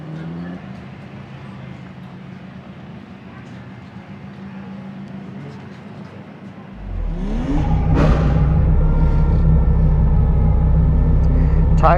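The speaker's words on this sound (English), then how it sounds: "we're gonna get some warm-up laps in and go get on track" Toyota AE86 drift car on warm-up laps at a large East Coast drift event: a steady engine drone and rumble that swells loudly around the midpoint into a harder, revving pull, with talk over the engine.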